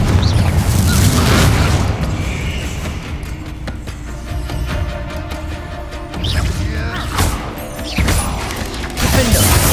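Repeated Bombarda and Confringo spell explosions in Hogwarts Legacy, heavy crashing booms with debris clatter, several loud blasts spaced through a chaotic fight.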